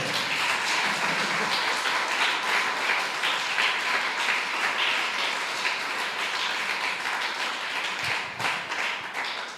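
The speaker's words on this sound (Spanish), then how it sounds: "denle un fuerte aplauso al Señor" A church congregation breaks into applause, a lively mass of clapping in a reverberant hall that stays strong for several seconds and then thins out toward the end.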